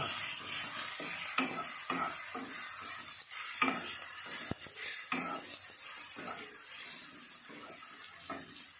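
Onion, shallots and garlic fry in a pan with bay and lime leaves for sambal goreng tahu, a soft sizzle under a series of sharp scraping and clinking stirs, close by, without talk.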